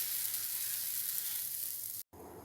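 Wheat flour, egg and banana batter frying in a pan over medium flame, giving a steady close hiss of sizzling that cuts out abruptly near the end before resuming more quietly.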